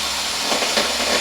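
A handsaw fitted with a 10 teeth-per-inch blade cuts along a marked line while building a farm and garden cart, giving a continuous close, steady rasp with no pauses across the short stretch.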